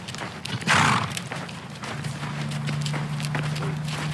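A horse neighs briefly and faintly, followed by a low steady hum and scattered soft clops or taps.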